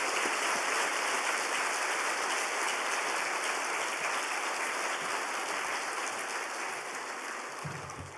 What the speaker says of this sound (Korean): 우리 뜨거운 박수로 맞으시면 감사합니다.